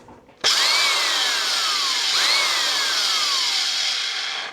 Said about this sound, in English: So that's the whole point of the drywall screwdriver.